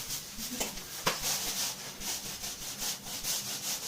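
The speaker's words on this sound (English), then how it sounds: "you have to sand it down" Sandpaper rasps steadily across a wall being prepared for paint, a continuous close scratching with a rhythmic back-and-forth pulse, fairly quiet throughout.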